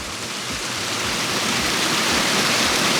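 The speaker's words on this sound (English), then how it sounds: "This is a beautiful waterfall, creates some incredible sound and a beautiful space" Backyard waterfall pouring into a koi pond, a steady, close, broadband rush of splashing water that holds constant throughout with no other sounds.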